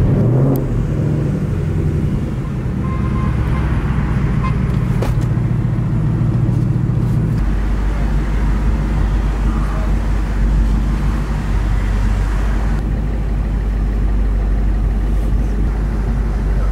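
A 1000-horsepower twin-turbo Ford Mustang engine rumbles loudly through its exhaust, a deep idle that swells into heavier, rougher throbbing partway through and stays close and prominent throughout.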